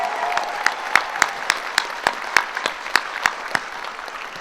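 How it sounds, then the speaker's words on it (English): A film premiere audience in Sacramento applauds the filmmakers. Steady clapping runs throughout with sharp individual claps standing out, moderately close, and no one talks over it. "Can I have another round of applause for the filmmakers?"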